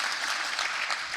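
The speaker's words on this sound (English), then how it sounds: "If you guys here for that, let's clap that up." A church congregation claps during a service, a short, fairly loud patch of many hands applauding at once, continuous and without voices.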